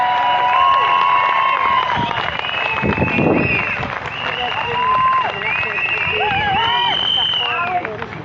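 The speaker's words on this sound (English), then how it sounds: "Big round of applause for him." Crowd at an outdoor Scottish independence rally at Bannockburn cheering and clapping, with whistles and shouts rising over steady applause while voices call out nearby.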